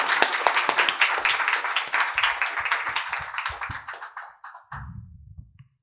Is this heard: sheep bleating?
no